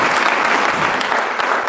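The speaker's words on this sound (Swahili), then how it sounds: "makofi kwa chama" Loud, dense applause from a crowd at a memorial service, a continuous close wash of clapping that holds steady for the whole stretch.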